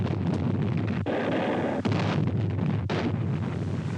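Naval artillery shelling Mount Suribachi on Iwo Jima in 1945, a continuous rumbling roar of bombardment on old film sound with a few sharper blasts punching through, loud and dense.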